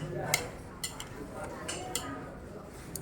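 Utensils clink and scrape against a bowl as Bún Bò Nam Bộ noodles with beef, bean sprouts and sauce are tossed together, a few light taps spaced irregularly under quiet restaurant ambience.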